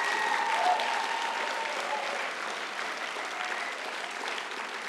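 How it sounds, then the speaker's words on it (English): Sustained audience applause at a political gathering, a dense steady wash of many hands clapping that holds loud throughout, with no one speaking over it. "give yourself an applause for that tremendous effort."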